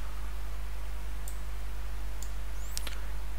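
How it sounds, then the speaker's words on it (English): A computer mouse clicked at a desk, a few short, faint clicks spaced apart, including a quick pair near the end, over a steady low electrical hum. "double click on it"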